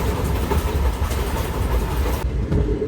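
The Repalle Express rolls into Miryalaguda railway station with a loud, steady rumble and wheel clatter close by, easing off near the end.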